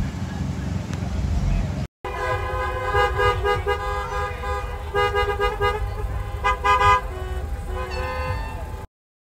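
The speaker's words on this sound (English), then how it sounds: "I wonder if I can get everybody to honk." Many car horns honk in a line of stalled traffic waiting to enter a festival, a layered chorus of toots and blasts rising and falling after a brief engine rumble and gap.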